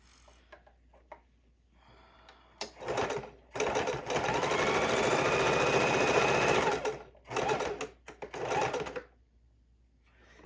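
Shoelaces are stitched onto a fidget quilt by a sewing machine that runs in several bursts, a longer steady run in the middle with shorter runs before and after, close and clear with quiet pauses between.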